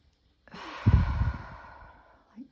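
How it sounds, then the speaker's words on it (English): A single deep breath, a long audible inhale and exhale close to the microphone, with a faint short breath sound at the very end. "Take a deep breath with me right now."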